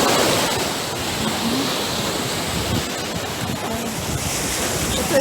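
Loud crashing Baltic Sea surf at Mielno, Poland, in the off season rolls continuously while strong wind buffets the microphone, a dense roaring wash of noise.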